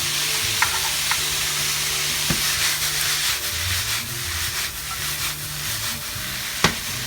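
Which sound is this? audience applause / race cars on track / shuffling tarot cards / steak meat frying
steak meat frying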